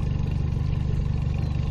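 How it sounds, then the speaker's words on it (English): A fishing boat engine runs at night during catfish and carp fishing, giving a steady, loud, low drone close by with no breaks. "I love this engine."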